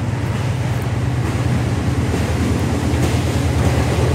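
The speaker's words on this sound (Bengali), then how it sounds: "এই যে চলে এসেছে আমাদের সেই কাঙ্ক্ষিত রেলগাড়ি" A train runs along a railway line through Lawachora rain forest, a continuous low rumbling roar with a steady rhythmic clatter underneath, loud and sustained throughout with no talking.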